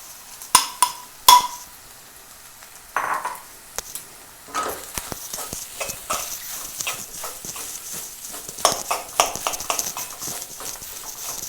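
A spoon stirs and mixes minced chicken cutlet mixture in a pan, giving a few sharp knocks at first, then steady scraping strokes with a soft sizzle underneath, close and moderately loud.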